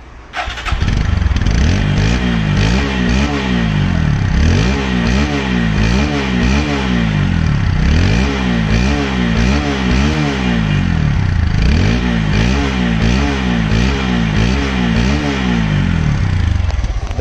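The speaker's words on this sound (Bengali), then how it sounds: "দেখো বাইকের সাউন্ড" A second-hand blue Apache RTR 160 4V motorcycle with about 2,911 km on it idles nearby, its steady, loud engine note rising and falling slightly in gentle revs with no talking.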